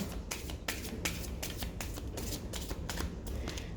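A deck of cards gets shuffled up close: a rapid run of crisp, repeated riffling flicks, steady and fairly quiet, with no talking over it.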